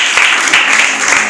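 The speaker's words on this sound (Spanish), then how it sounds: "Denle un aplauso al Señor." Applause from a church congregation during a Spanish-language sermon, a steady broadband clatter of many hands that fills the whole short moment at a loud level.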